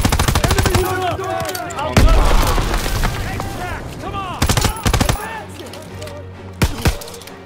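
Heavy gunfire in the World War II shooter Call of Duty WW2, dense overlapping rifle and machine-gun shots with sharp louder cracks near the end, alongside shouting voices and battle noise.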